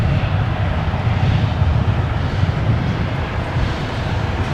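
A Qantas Boeing 737-800 arriving from Sydney comes in to land on runway 19 left at Brisbane Airport at night, its jet engines a loud, steady, broadband roar with a low rumble and no voices.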